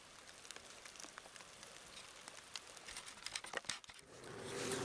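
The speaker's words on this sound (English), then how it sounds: "it's starting to rain a little heavy" Rain falls outdoors in the woods during a turkey-scouting outing, a faint, steady patter with scattered close drops and crinkling bursts as if striking a jacket near the microphone, swelling louder at the end.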